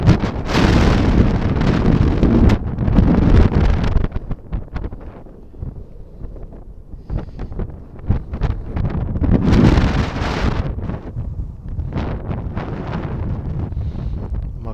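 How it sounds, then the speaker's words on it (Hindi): Strong night wind in Mecca buffeting the microphone in heavy roaring gusts that swell, ease and surge again, with no voices. "बाहर बहुत हवा है।"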